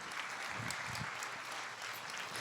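Steady applause from a church congregation at a Sunday service, many hands clapping at once, dense and continuous for a couple of seconds with no voices over it.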